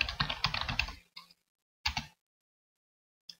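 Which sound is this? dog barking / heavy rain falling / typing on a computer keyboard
typing on a computer keyboard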